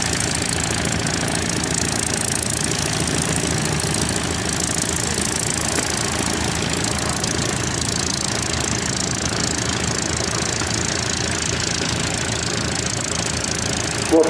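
A Rolls-Royce Merlin 20 engine powers a Sea Hurricane aircraft at an Old Warden WW2 display, giving a steady, dense, loud drone that holds unbroken throughout with no talk.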